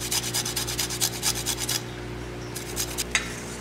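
Lime zest is rubbed off on a grater in quick rhythmic rasping strokes, close and clear, then a pause and a few lighter scrapes, with no one speaking.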